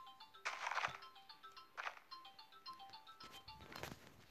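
A mobile phone ringtone in a survival video game, a quiet melodic electronic tone that repeats in short phrases over about four seconds.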